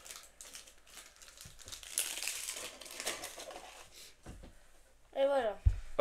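A Magic: The Gathering booster pack wrapper crinkles and tears open in quick rustling bursts close to the microphone, with brief voices cutting in near the end.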